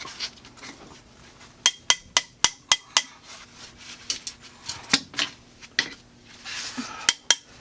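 Sharp metallic clinks of steel chisels striking and prying carpet up from a concrete floor, a series of irregular taps and clusters, close and crisp, with no talking.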